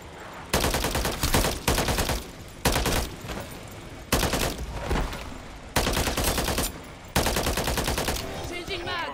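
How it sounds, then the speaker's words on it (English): Call of Duty gunfight with loud, dense bursts of automatic gunfire coming in five or six sustained volleys, each lasting about a second, close and forceful with short gaps between. "Ready up for a gunfight."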